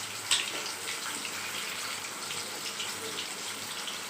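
Bay leaf, dried red chillies and cumin seeds are dropped into hot oil for tempering, producing a steady, even sizzling hiss with a small pop near the start, moderately quiet.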